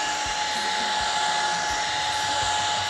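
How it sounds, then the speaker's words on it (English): A hair dryer blows steadily at close range, drying rotted wood inside a 19 ft camper under renovation; the whine is continuous and even throughout, with no voices. "I've got a hair dryer"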